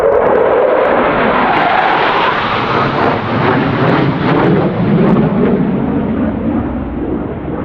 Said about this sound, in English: that was one of those like military airplanes